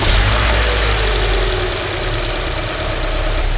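A car engine runs at a steady idle close by, a continuous low rumble with a slight dip in level partway through and no speech.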